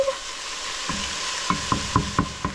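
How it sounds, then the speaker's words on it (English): Beef chunks for stew brown in a hot pan with a steady sizzle, punctuated by several sharp, close knocks of stirring against the pan. "Okay, so our meat is basically browning."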